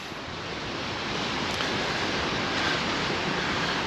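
Sea waves at Playa de Palma beach in Mallorca, heard as a steady, broad wash of surf with wind on a December morning, continuous and fairly loud with no voices.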